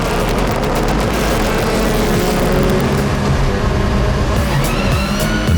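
Rally cars race in a Global Rallycross semi-final, their engines roaring loud and continuous at close range with rising and falling revs throughout.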